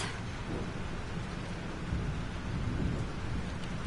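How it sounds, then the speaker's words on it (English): Thunderstorm with steady heavy rain in the video game Life Is Strange, a dense continuous downpour with deep rumbling thunder rolling underneath throughout, no voices. "This storm is real."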